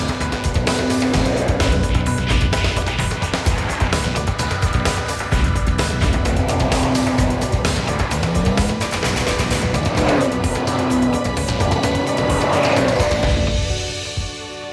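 A Porsche pushed to its limits on a race circuit roars steadily while its tires squeal in repeated drawn-out screeches, loud and continuous with no talk.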